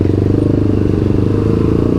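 A loud, throaty four-cylinder Kawasaki ZX motorcycle exhaust revving close by, with a steady rapid pulsing drone.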